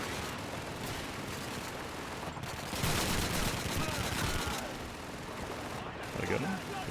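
Gunfire in the 2005 World War II shooter Call of Duty 2 during a village siege, dense crackling volleys and rapid automatic bursts running steadily throughout, with a louder stretch in the middle and occasional voice beneath.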